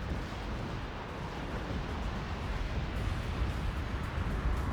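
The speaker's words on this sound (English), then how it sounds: "And the Valor's just constantly barraging at long range." Continuous rumbling artillery barrage from the real-time strategy game Act of Aggression, dense overlapping booms and bursts at a steady moderate level with no talk.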